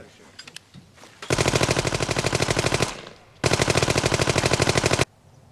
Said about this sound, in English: Firing squad.